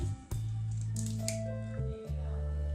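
Eggs are dropped into a pan for fried rice with wet squishing cracks and a short splat, set against a loud, steady background hum that drops out briefly twice.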